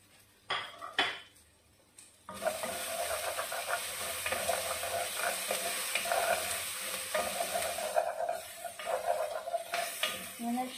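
Air-fried shrimp being stirred in a hot pan: a few sharp utensil clanks at the start, then continuous sizzling with scraping and clinking of the spatula against the pan.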